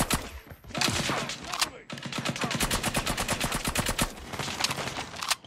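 Rapid bursts of nail gun fire from a first-person shooter game, loud and close, rattling in fast repeated volleys with brief pauses, with faint voice underneath.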